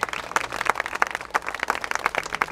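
A crowd applauds the official opening of a renovated playground in a city park in Pyskowice, just after a ribbon cutting. The clapping is dense and steady throughout, with many hands close by.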